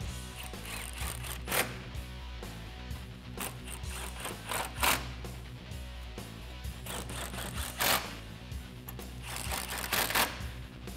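Ratchet tightening factory 10 mm bolts on a Body Armor ECO-Series front bumper for a 2014-2015 Chevy Silverado, with a steady run of clicking and metallic clatter and several sharper clanks spaced through, fairly close, no talking.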